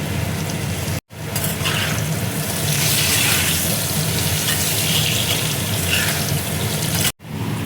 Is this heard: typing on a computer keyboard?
no